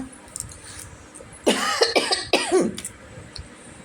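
A few harsh, loud coughs in a quick burst, near and clear, with quiet room noise before and after.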